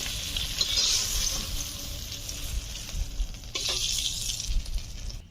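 Giant freshwater prawns frying in a pan, a steady bright sizzle with faint stirring scrapes and small crackles throughout, no talking.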